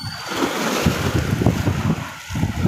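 Strong waves churn and crash in a rough, continuous wash with gusty wind buffeting the microphone.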